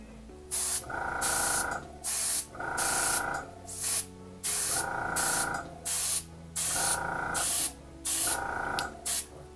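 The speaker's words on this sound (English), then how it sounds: "now let's just do a little bit of spraying with the" Short bursts of spray hiss in a steady rhythm, about a dozen quick pumps of a paint sprayer onto cardstock close by, each lasting under a second.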